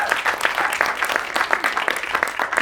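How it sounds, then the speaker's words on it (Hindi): Audience applause for actor Raghubir Yadav at a film trailer launch at PVR Cinemas Juhu, a steady dense patter of many hands clapping throughout at an even level, with no talk over it. "तो जोरदार तालियां हो जाएं रघुवीर यादव जी के लिए।"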